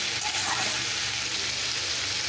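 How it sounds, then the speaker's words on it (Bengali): Onion stalks fry in a pan for a fish curry, a steady close broadband sizzle that holds at an even level through the short stretch with no pauses and no voices. "পিঁয়াজ কলিটা দিয়ে আমি একটু লাল লাল করে ভাজব"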